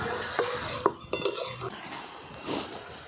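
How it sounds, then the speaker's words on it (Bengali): Chicken curry with green chilies is sautéed in a pan, giving soft scraping stirs and light metallic clinks of a spoon against the pan over a quiet, faint sizzle. "শুকনো হওয়া পর্যন্ত কষিয়ে নেব"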